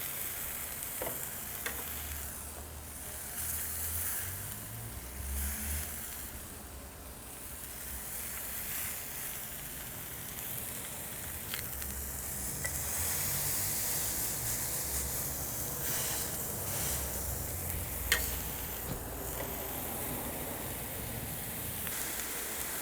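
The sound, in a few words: Cuban frita burger patty being smashed and sizzling on a griddle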